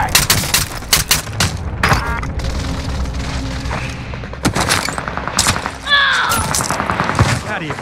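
Video game combat with dense gunfire: loud, close rifle and machine-gun bursts with sharp single shots and booms, mixed with voices at times.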